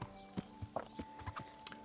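A horse's hooves clip-clop at a walking pace through a medieval town in Kingdom Come: Deliverance, with a steady run of soft, fairly quiet hoof strikes over faint ambient background and no speech.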